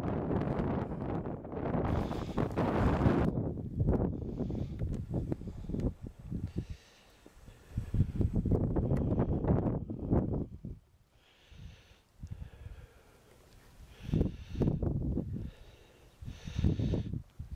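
Icy wind blows across a mountain ridge on the way to the Dents des Portes, heavy gusts buffeting the microphone in loud roaring bursts that ease into quieter lulls between them.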